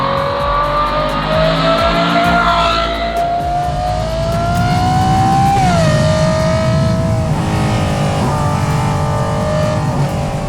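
A Lamborghini Revuelto engine revs loudly while driving, its pitch climbing steadily through the gears, then dropping at a shift before rising again, close and continuous with no talking.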